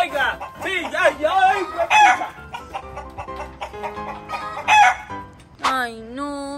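Chickens cluck and squawk loudly close by with a rooster crowing near the end, agitated bird calls rising and falling over several seconds.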